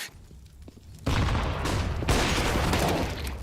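Gunfire in Counter-Strike: Global Offensive, a Desert Eagle pistol among the weapons in a pro match: quiet at first, then a sudden loud burst of shots that keeps up as dense, overlapping firing.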